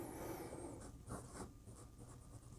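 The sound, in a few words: Wing Sung 698 fountain pen fine nib writing on paper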